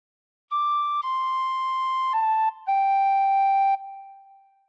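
A tin whistle plays a phrase of Amazing Grace: a few clear, pure held notes stepping gently downward, with the last note fading out, heard alone.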